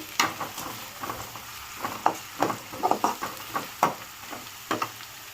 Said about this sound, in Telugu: ఆనియన్స్ కొంచెం ఫ్రై అవ్వాలి